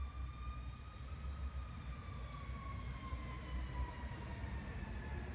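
An ambulance siren wails steadily outside, a sustained tone drifting slowly downward in pitch as it passes, moderately distant over a rumbling background with no talk.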